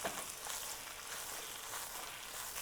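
Yakisoba noodles and vegetables sizzle in an oiled frying pan, a steady close crackling hiss that holds throughout without talk.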